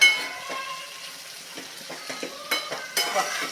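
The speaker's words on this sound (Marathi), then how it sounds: "चवीनुसार मीठ घालायचं आहे मिक्स करून घ्यायचं आहे" Cluster beans frying in a pan and stirred with a spoon, a steady close sizzle under repeated scraping and clinking strokes.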